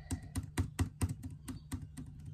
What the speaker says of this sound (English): I'm pressing it on the keyboard,